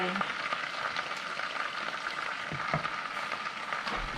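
Tofu and mixed vegetables, including purple cabbage, stir-frying with soy sauce in a hot pan, giving a steady close sizzle with faint scraping stirs throughout and no talking.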